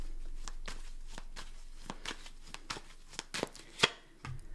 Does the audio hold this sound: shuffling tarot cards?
yes